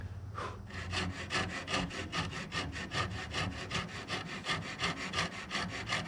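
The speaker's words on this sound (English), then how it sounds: "And the key with the coping saw" A coping saw back-cuts MDF baseboard with quick, even strokes, a rasping rhythm of about three strokes per second, close and continuous, with no talking.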